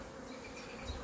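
Honeybees humming steadily inside an open hive during an inspection, a close, continuous low drone with no pauses across the short moment.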